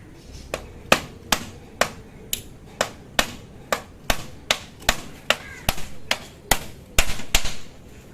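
Hammer blows on pieces of a homemade bird cage: a steady series of sharp, separate knocks about every half second, close and fairly clear, with no speech.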